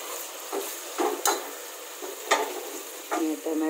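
Onions fry in a pan for a home-cooked vegetarian dish: continuous bright sizzle with a spoon stirring and scraping in several short strokes, close and clear, no talking.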